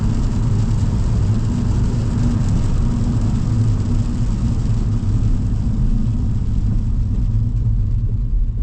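A 2025 Hyundai Inster Cross accelerating hard from a standstill, heard from inside the cabin as a loud, steady low engine and road rumble that holds constant with no talking.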